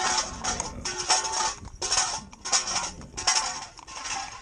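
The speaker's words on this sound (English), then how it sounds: "The reason we drag this metal is obviously if they got a horrible noise like that behind them" Metal drag system pulled behind a horse in harness training, continuous rattling, clanking and scraping of metal over the ground, fairly loud and close with steady rough texture throughout.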